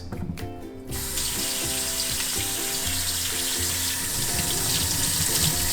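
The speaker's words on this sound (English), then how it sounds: "As always, remember to wash your hands." A tap runs steadily into a sink during handwashing, a continuous close splashing hiss that starts after a second of quieter sound and continues to the end, with faint tonal sounds underneath.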